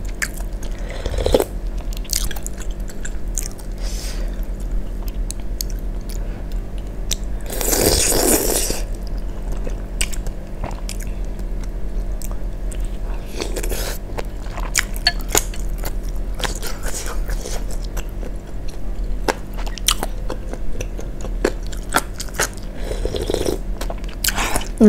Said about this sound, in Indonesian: kita makan pangsit kuahnya